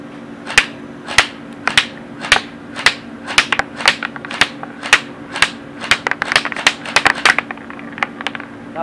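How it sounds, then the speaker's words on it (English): A Cyma AK airsoft rifle fires close by, first as evenly spaced single sharp cracks on semi-auto, then as faster, denser clusters of rapid snaps toward the end. "The AK is first going to be on semi and then full auto."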